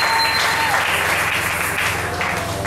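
Church seminar audience applauding steadily to acclaim the Lord, a dense, sustained wash of clapping that holds throughout without pause.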